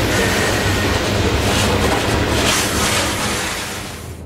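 A loaded Canadian Pacific grain train, nearly 10,000 feet long and over 22,000 tons, rumbles past at close range with a loud, continuous roar and rolling wheel noise that eases slightly near the end.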